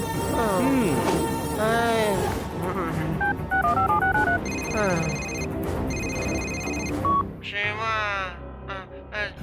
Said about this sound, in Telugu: శివాకి ఫోన్ చేయాలి.